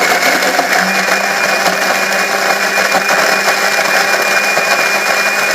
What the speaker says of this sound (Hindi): अब इसको पहले ब्लेंड करेंगे।